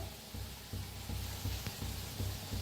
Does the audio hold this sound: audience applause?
no